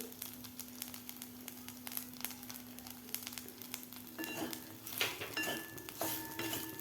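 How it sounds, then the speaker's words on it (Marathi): A spicy eggplant curry is stirred in a pan, with faint sizzling and soft scraping and clinking of the spoon, quiet and close with no voices. "व्यवस्थित हलवून घ्यायची आहे भाजी"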